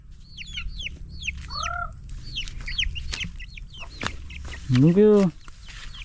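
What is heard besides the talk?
baby chicks peeping near hen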